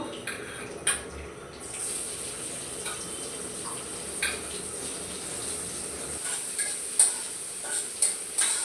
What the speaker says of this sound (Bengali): এই যে দেখুন আমি মাছ ভাজাগুলো ভেজে নিচ্ছি